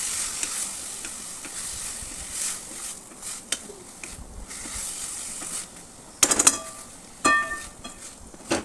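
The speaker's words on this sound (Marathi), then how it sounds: "चांगलं असं परतून घ्यायचं आहे मिक्स करून घ्यायचं आहे चांगल्या प्रकारे" Whole fenugreek leaves and moong dal are sautéed in a pan, with a low hiss under scattered stirring scrapes and a couple of loud, sharp clatters near the end.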